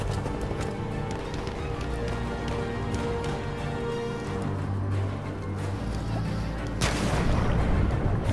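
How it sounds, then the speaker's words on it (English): Gunfire in a video game rattles on throughout as steady, dense shots and bursts over a constant battle din, with a sharper, louder blast near the end. "Someone shot at me then."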